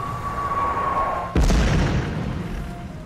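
A mortar shell explodes in the naval combat game Blackwake, a single sudden heavy boom that follows a steady tone and rumbles on, fading over a couple of seconds.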